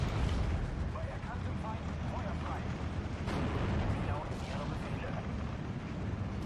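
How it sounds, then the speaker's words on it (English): Mortar and artillery fire in the World War II strategy game Steel Division 2 roars in a dense, continuous barrage of booms and rumbling impacts, loud and unbroken throughout with several sharper blasts standing out. "Those mortars are annihilating my... AA."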